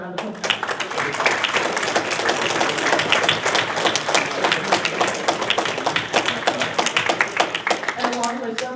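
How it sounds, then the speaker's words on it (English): A chapter meeting audience applauds with steady, dense clapping that fills the room and stays fairly loud throughout, with voices mixed in under the clapping. "Can we have another round of applause?"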